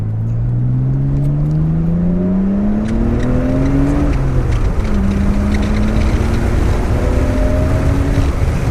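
A modified 1991 Nissan Skyline R32 GT-R accelerates hard in a loud, close run, its engine note climbing steeply through the gears with a brief drop at each shift, over constant road and wind roar heard from inside the car.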